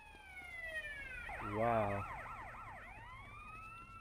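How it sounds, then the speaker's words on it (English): Police car sirens wail in GTA San Andreas, several overlapping sweeping tones rising and falling as the cars pass close, swelling loudest in the middle before fading, with a brief exclamation from a voice. "All these police cars."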